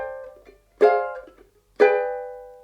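Ukulele chord melody of a song, played in a lesson, with two ringing strummed chords about a second apart, each with a bright attack and a long decay, close and clear.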